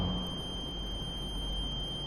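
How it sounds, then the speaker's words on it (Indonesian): Throughout a religious lecture, a steady high electronic alarm buzzer sounds continuously at moderate level over a background hum, with no one speaking. "Ini berarti tandanya alarm ya"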